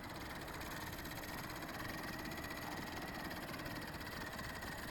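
A repaired Blade 450 3D RC helicopter runs with its main gears failing to mesh, giving a steady, close-up mechanical whir and buzz with a rough, rattling texture that holds at an even level throughout.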